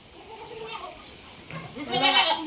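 Goats and young kids in an enclosed goat farm bleat softly, then a louder bleat near the end, over a low background murmur.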